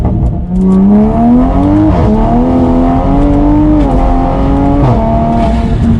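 A Toyota Supra A90 fitted with forged carbon fiber chassis strut braces accelerates hard in second gear, its engine loud and close, pitch rising steadily with brief dips at gear changes, with no talking over the roar.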